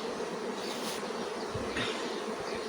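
Honey bees buzz steadily at an open beehive, a continuous dense drone close by with individual bees flaring louder as they pass.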